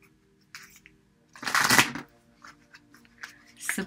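Destiny oracle cards shuffled close by: a short scrape, then one loud riffling burst, followed by lighter card taps and a final brief flutter against quiet.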